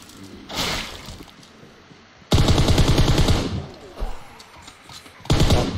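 A minigun fires in the mobile game PUBG Mobile in loud rapid bursts, one short burst, then a long sustained stream of fire, then brief bursts, close and dominant.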